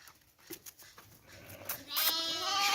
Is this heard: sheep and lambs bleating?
yes